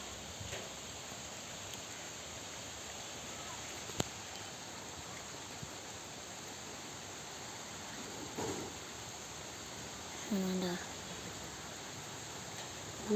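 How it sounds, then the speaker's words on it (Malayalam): Steady rain falls in a home garden as an even, hissing wash. Occasional louder drips and faint background sounds stand out briefly against it. "മഴ നല്ല ഉണ്ട്"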